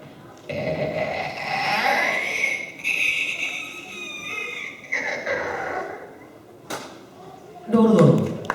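A mimicry artist's voice imitating a door opening on stage, drawn-out creaking vocal tones that rise and bend over several seconds, close and clear, with a short breathy burst near the end.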